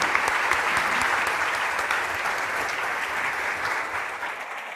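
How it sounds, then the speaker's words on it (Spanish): Steady, enthusiastic applause from a large crowd after a cybersecurity panel, sustained and fairly loud throughout with no pause. "los despedimos con un fuerte aplauso"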